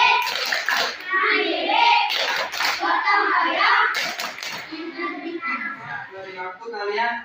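Schoolchildren in a classroom repeat a rhythmic cheer clap, quick clustered hand claps mixed with chanting kids' voices, loud and close throughout.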